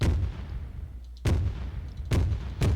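Several deep booming gunshots from a Flak 88 anti-aircraft gun in the Flan's Mod World War II pack, fired at irregular intervals, each a sharp blast with a rumbling tail.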